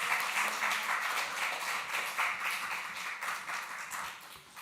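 A church congregation claps during a joint Sunday worship service as a missionary comes forward, a moderately loud burst of applause that slowly fades over several seconds.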